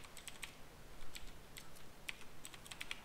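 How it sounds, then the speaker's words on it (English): Loud computer keyboard typing during an online shooter game, a quick run of crisp, irregular key clicks close to the mic with no talking. "I didn't know your keyboard was so loud."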